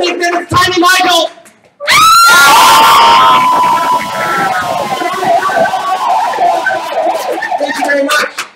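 A live game show audience bursts into loud, sustained cheering and shouting that swells suddenly and carries on to the end, with a host's voice briefly heard before it.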